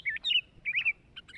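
Birds chirping in a lush rural Indonesian village, several quick high tweets in short bursts, fairly close and clear, with no talking.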